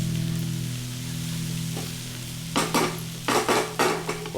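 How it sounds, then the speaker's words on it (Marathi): Seasonal wild hill greens (Kolu ranbhaji) are stirred in a kadhai over a low background sizzle, with a series of close, rhythmic scraping clatters of the spatula against the pan in the second half. "परत झाकण काढून परत ती थोडी हलवून घ्यायची म्हणजे खाली आपली कढईला लागणार नाही"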